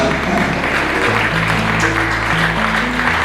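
Steady, dense applause from the audience at the Miss Graticolato Romano 2025 beauty pageant in Borgoricco, Padova, a continuous wash of clapping blended with background music throughout.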